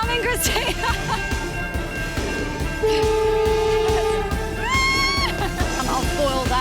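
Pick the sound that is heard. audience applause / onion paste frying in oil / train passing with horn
train passing with horn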